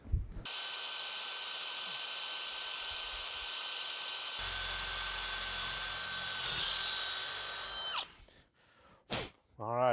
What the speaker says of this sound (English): So let me get a number 7 drill bit,